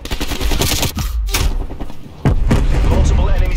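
Explosions and heavy gunfire in a Call of Duty Cold War match as a Semtex sticky grenade goes off, loud booming blasts and gunshots with a sharp burst near the middle, under game announcer voice lines.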